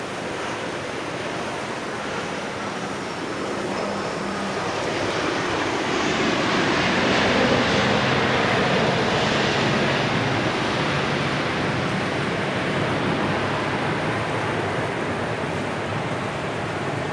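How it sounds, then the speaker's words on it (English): A Southwest Boeing 737-700 arriving at Dallas Love Field produces a broad, continuous jet roar that swells toward the middle and then holds steady, heard from a distance with no voices. "we're about to see Southwest Flight 4158 arriving from Tampa. This will be a 737-700 on Runway DFW at Dallas Love Field."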